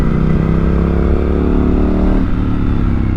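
A motorcycle on knobby rear tyres rides Route 197 near Barnardsville, North Carolina, with a fault that loses track of its gear; its engine drones loud and steady, pitch sliding slightly as revs shift, with no talk.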